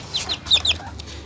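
A hen clucks with her chicks nearby, giving a few soft, short calls that are close and fairly quiet against low background noise.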